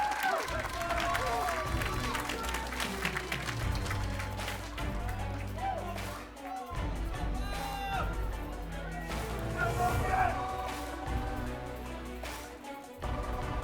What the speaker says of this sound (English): Love how the crowd is getting hyped up for this one.